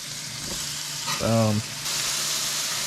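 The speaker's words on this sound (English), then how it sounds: "Hear them sizzle." Crappie fillets fry in butter in a hot pan, a constant crackling hiss, with a brief voiced sound cutting in partway through.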